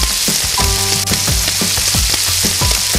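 Pakoras, vegetables wrapped in besan gram-flour batter, deep frying in hot oil at a Nepali street snack stall, a loud steady sizzle and bubbling with repeated low thumps and stirring clatter throughout, no talking.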